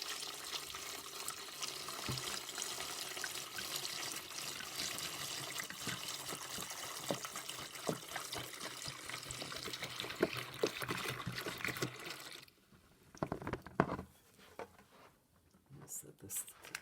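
Water is poured into the tank of a Bissell Big Green deep cleaning machine, a steady splashing trickle for about twelve seconds before it thins out into scattered drips and handling sounds, with faint talk nearby.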